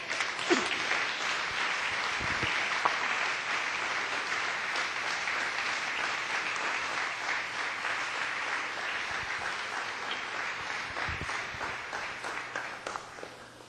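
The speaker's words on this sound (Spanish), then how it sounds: "¿Cuánto le dan un aplauso al Señor?" A church congregation claps in praise during a sermon, a long, even round of applause from many people that carries on for over ten seconds.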